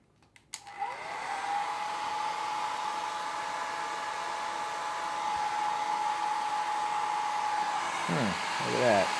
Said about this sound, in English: this hair dryer's not doing anything.